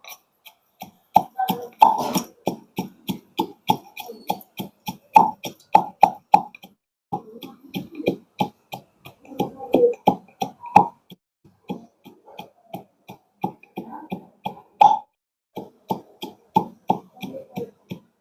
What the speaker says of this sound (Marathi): चला चला तर आता आपण शेंगदाण्याचं थोडं